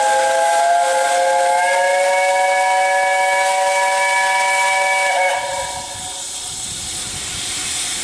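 A loud, sustained whistle from steam locomotive 75014 on the Dartmouth Steam Railway at Paignton Station blows steadily for about five seconds, then cuts off, leaving a hissing rumble of steam behind.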